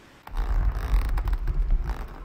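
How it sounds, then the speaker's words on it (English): Sailing ship running aground on land in a sailing simulator game: a deep, sustained low rumble and grinding creak that swells in after a brief quiet start and carries loudly for about two seconds, no voices. "Yeah, that's the sound of hitting land."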